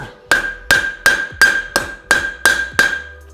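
A farrier's hammer sets a clip on a horseshoe with eight evenly spaced, sharp metallic blows. Each strike rings clearly and is close and loud, with no talking.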